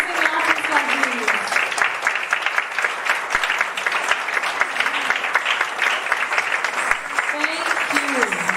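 An audience claps continuously for performing artists at a Ramayana reading event, a steady even wash of applause with voices audible over it.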